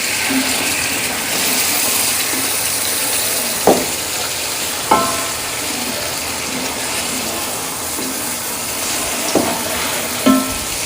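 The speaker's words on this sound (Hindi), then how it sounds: "हम इसमें चिकन ऐड करेंगे। हमने इसमें चिकन ऐड कर दिया। अब हम इसको अच्छे से मिक्स करेंगे।" Raw chicken pieces stirred and mixed in a pot of masala for chicken biryani, a steady sizzling hiss broken by a handful of sharp spoon scrapes and knocks against the pot, with no talking.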